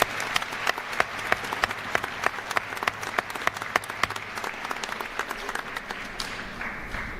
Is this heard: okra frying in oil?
no